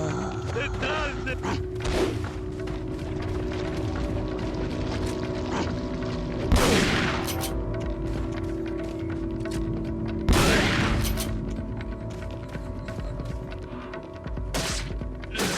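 Gunfire in the Resident Evil 4 video game, a few loud booming shots spaced seconds apart among creaks and mechanical game noises, with a person talking over the action.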